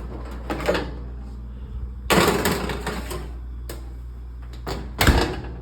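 Oven door opening and a tray of biscuits sliding in, then the door closing, a few distinct clunks and thumps close by in a quiet kitchen with low background hum.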